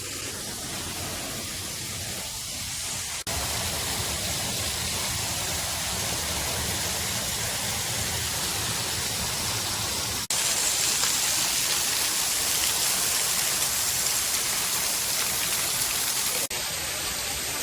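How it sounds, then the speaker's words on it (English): Steady, roaring wash of falling water from Kurşunlu Waterfall in Antalya, heard from right underneath it, loud and close, a broad continuous rush with no speech. "We've just gone right under the waterfall."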